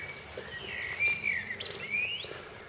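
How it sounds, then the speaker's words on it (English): Birds chirp and sing along a garden path lined with tulips, their bright, sweeping calls repeating near and clear above a faint low background hum. "Listen to those birds."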